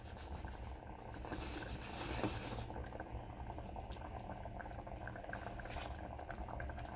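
Grits bubble in water in a pot on a stovetop, a faint, steady simmering hiss and soft popping that continues throughout without talk.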